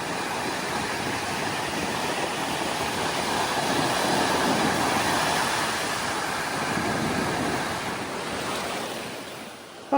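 Waves wash onto a beach at Point Gibbon near a campground, a steady broad roar of surf that swells and fades gently, with no talk.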